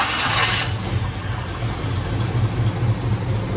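A car engine fed from a small fuel jug runs rough and steady at idle, smoking from the passenger side, a low rumbling drone with a brief hissy burst at the start.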